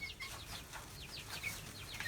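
Baby roosters in a backyard shed brooder peep and chirp steadily, many short high calls overlapping at close range without pause over a low background hum.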